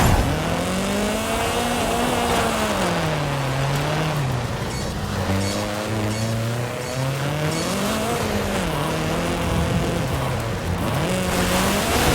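An Audi RS6 in a racing video game, its engine revving loud and close with rising and falling pitch sweeps, tire squeal mixed in, and no speech.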